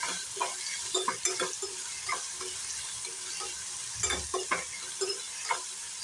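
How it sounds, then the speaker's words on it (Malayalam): Banana pieces fry in coconut oil with a constant close sizzle, broken by repeated scraping and clinking strokes of a spoon stirring them around the pan. "നല്ലോണം വറുത്തെടുക്കാം."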